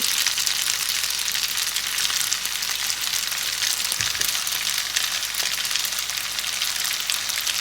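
Spaghetti stir-fried and tossed in a pan gives a loud, dense, continuous hiss of sizzling oil, close and unbroken. A brief thump partway through marks the noodles being moved.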